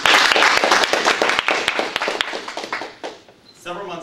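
An audience claps for a student speaker at a speech presentation, a dense burst of many hands that thins out and fades after about three seconds, followed by a voice beginning to talk.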